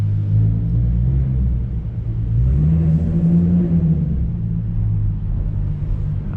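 Car with a worn ball joint rolling over a bump, heard from inside as a loud, continuous low rumble that swells midway through, with no voices.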